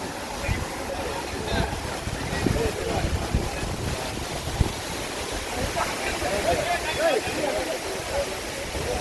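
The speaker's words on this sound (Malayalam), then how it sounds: "നല്ല കാറ്റുണ്ട് ഇപ്പോൾ" Steady wind gusting at Kutrallam waterfalls in Tamil Nadu, with a constant broadband rush and buffeting against the microphone, joined by faint crowd noise and brief talk.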